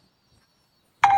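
A single telephone keypad tone begins near the end, a steady touch-tone beep after near silence as a phone call is placed.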